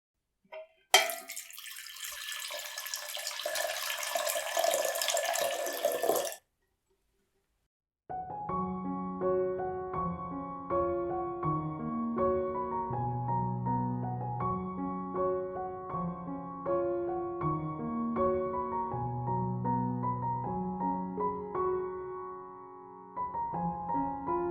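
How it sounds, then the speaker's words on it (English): Warm water pours over grated coconut in a loud, steady splashing rush for about five seconds, then stops, and a melodic music backing follows. "I'm extracting coconut milk by pouring warm water over the grated coconut"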